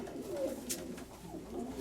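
A red pigeon coos softly in short repeated phrases, close by, with a faint flutter in the background.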